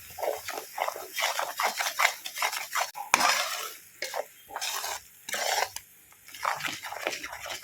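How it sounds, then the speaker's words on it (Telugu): A spoon stirs thick tomato masala curry gravy in a pot, repeated scraping and clinking strokes in a steady rhythm, close and fairly loud, with brief pauses between bursts. "ఇప్పుడు ఇది పచ్చి వాసన పోయే వరకు మనం కలుపుతూనే ఉండాలి."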